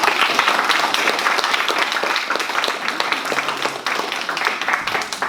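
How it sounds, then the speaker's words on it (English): Audience at a Democratic 40th District Senate candidate forum applauding both candidates, a loud, dense burst of clapping from a roomful of people that holds steady and eases slightly near the end. "I'd like to have a round of applause for both of our candidates tonight."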